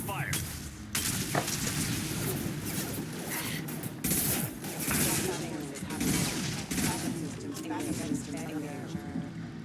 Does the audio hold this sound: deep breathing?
no